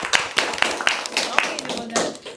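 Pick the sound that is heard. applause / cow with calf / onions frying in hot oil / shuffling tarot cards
applause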